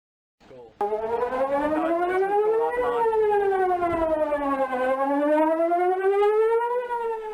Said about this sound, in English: Outdoor weather sirens are great